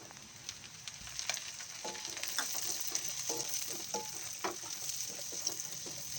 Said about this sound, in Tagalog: Isunod na rin nating gisahin ang sibuyas.